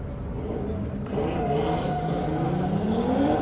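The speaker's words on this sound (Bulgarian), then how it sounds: "Христо Цветанов с неговата загряваща обиколка, с неговото E92 M50 Turbo" A BMW E92 with an M50 turbo engine, built as a drift car, rumbles through a warm-up lap, its engine note steady and loud, then climbing in pitch as it accelerates. Engine noise continues throughout, close and unbroken.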